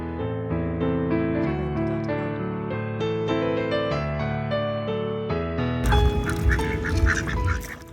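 Ducks quacking and honking together near a sunset waterside in Kota Kinabalu, loud and close, a dense layered chorus that grows busier and noisier toward the end.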